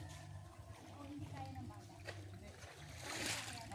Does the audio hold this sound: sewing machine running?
no